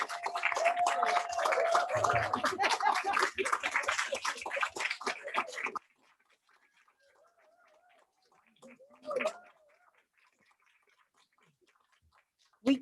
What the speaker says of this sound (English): There's still some claps happening.